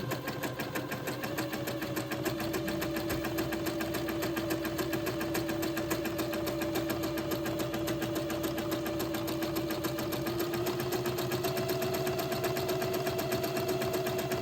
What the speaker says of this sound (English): where I zigzagged before, I'm going to simply zigzag a second time